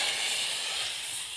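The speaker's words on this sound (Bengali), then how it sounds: "এবার আমি চালটাকে সেদ্ধ করার জন্য প্রথমে দিয়ে দেব কড়াইয়ে জল।" Water poured into a hot wok for boiling rice hisses steadily in a broad, even wash of steam noise, fairly quiet and unbroken, with no voices.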